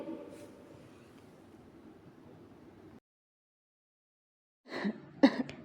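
A low background hiss gives way to silence, then a couple of sharp, close coughs from a person with a cough lasting over three weeks burst out near the end.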